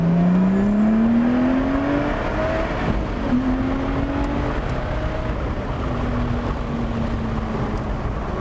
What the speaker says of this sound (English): And finally, this engine.